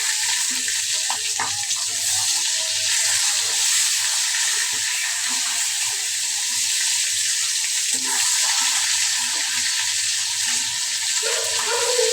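Spinach and hilsa fish pieces fry in a hot pan, giving a steady, close, continuous sizzle with faint stirring clinks throughout and no voices.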